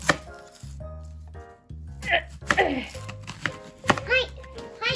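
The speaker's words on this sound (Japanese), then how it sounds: "玉ねぎをくし切りにしてください。" Kitchen knife chopping an onion into wedges on a cutting board, several close, sharp taps at irregular intervals over steady music, with some light clatter between cuts.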